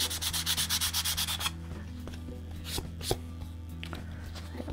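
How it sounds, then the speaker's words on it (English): Sandpaper rubbed over a painted surface in quick, even back-and-forth strokes for about a second and a half, close and loud, followed by quieter handling sounds and light taps. "I'm going to take a little bit of sandpaper,"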